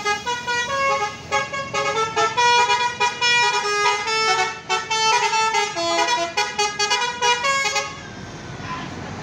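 Buses and cars honk repeatedly at the crowded Purabaya terminal exit, with long, overlapping horn blasts sounding loud and close in a busy, almost continuous chorus for several seconds before fading.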